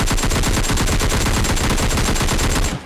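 Rapid automatic gunfire in an online shooter game, a dense loud burst of shots fired in quick succession for nearly three seconds, then stopping abruptly.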